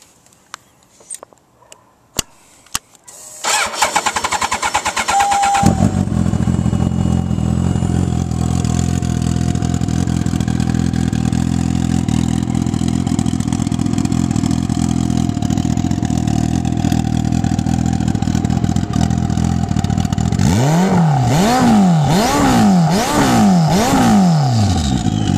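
A stretched, chrome-laden Suzuki Hayabusa turbo motorcycle cranks with a few clicks, fires up and settles into a loud steady idle up close, then near the end it is revved in several quick, rising and falling blips.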